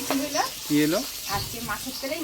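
Fish sizzles quietly as it fries in a little oil in a village kitchen, a soft steady hiss under voices talking close by.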